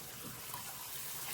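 Running water from a bath tap rinses a small dog in a bathtub, a steady close pouring wash that swells louder at the very end.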